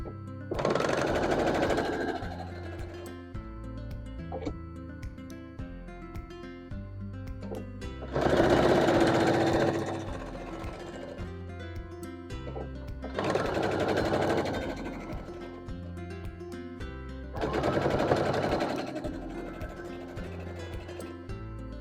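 A sewing machine stitches quilt block pieces together for a Friendship Star barn-star block. Four separate bursts of rapid, steady stitching stand out from a quiet room, each lasting a couple of seconds.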